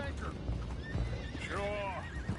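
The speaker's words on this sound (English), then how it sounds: "Boys, go find out about those horses down below." Horses neigh and whinny in a Red Dead Redemption 2 scene, a long wavering call rising out of a busy mix with hooves clip-clopping underneath and a voice talking over it.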